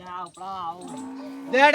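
Deep, drawn-out lowing from buffalo, several sustained calls in a row, fairly close and loud, the last one the strongest.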